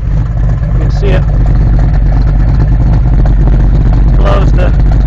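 A freshly rebuilt 427 engine in a 1968 Chevrolet Nova idles nearby with a deep, loud, steady rumble, while someone talks over it.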